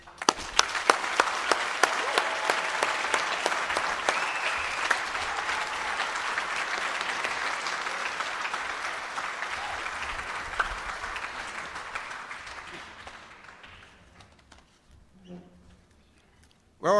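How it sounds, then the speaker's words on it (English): An audience at a soccer club player announcement applauds for a named player, a dense round of clapping that fades gradually over about fourteen seconds before falling nearly silent. "So please, a great round of applause to our first announced player, Marcelo Zaragoza."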